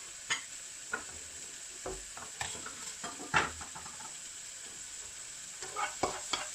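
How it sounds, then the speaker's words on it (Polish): A spatula stirs and scrapes in a sizzling frying pan while scrambled eggs are prepared, irregular scraping knocks over a faint, steady sizzle, with no talking. "W międzyczasie z tym mieszam w patelni, żeby się nic nie przypaliło."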